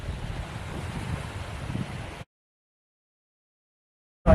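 Surf washing in at Anchorage Beach on the Abel Tasman coast, a steady breaking-wave roar with wind buffeting the microphone, cutting off abruptly into silence before a brief loud burst at the end.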